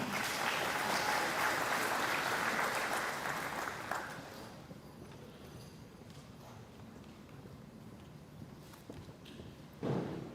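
A school audience at a Step Up Day ceremony applauds scholarship recipients, a crowd's clapping that holds strong for about four seconds, then thins to scattered claps and quiet room noise before a short burst near the end.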